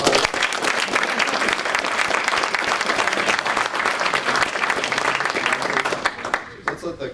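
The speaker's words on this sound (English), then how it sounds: "let's give a round of applause" An audience applauds at a project-of-the-year award presentation, a full, sustained burst of many hands clapping that stays loud for about six seconds, then tapers off quickly with a few scattered claps and murmurs.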